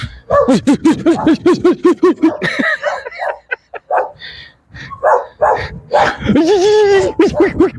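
Dogs bark in a quick, close series of yips, followed by scattered barks and a whining, drawn-out cry.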